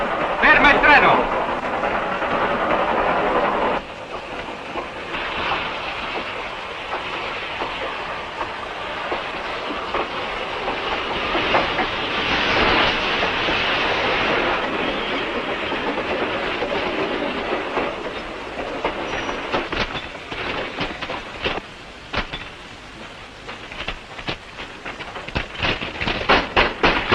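A moving steam-era train in a 1955 western rattles along with rhythmic clickety-clack and metallic clatter while voices talk over the rolling din.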